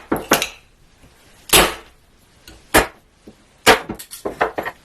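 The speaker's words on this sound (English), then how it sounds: "So I'm just going to whack that out with a chisel." A chisel knocks waste wood out of a cut in a series of close, sharp whacks. The blows come in irregular bursts of one or two, followed by a quicker cluster of lighter taps at the end, with no voices.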